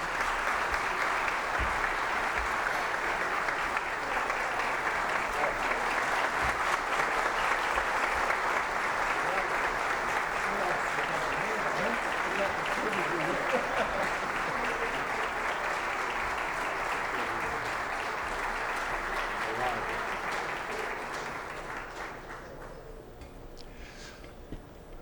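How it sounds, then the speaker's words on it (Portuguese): A large audience at a solemn session celebrating 350 years of the Rio de Janeiro diocese gives sustained, dense applause welcoming a cardinal, loud and even for about twenty seconds before fading out. "recebam com aplausos"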